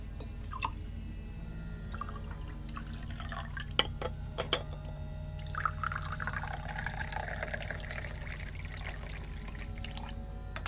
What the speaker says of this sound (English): That's a lot of tea pouring.